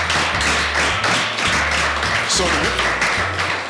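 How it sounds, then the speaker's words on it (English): An audience at a debate event claps in a round of applause, a dense patter of many hands in uneven waves, with a voice speaking over it. "A round of applause again."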